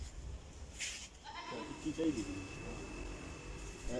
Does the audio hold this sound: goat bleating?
yes